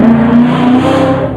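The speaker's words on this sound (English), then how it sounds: "Somebody just took my car." A car engine runs close and loud, holding a steady droning tone for about a second and a half with no voices over it.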